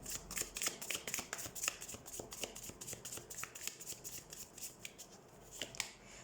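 Tarot deck being shuffled by hand, a quiet run of crisp riffling snaps and soft card slaps repeating in quick irregular bursts, close and faint with no talk.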